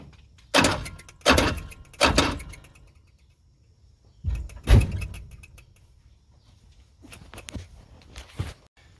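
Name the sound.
1965 AMC Rambler engine trying to turn, clutch seized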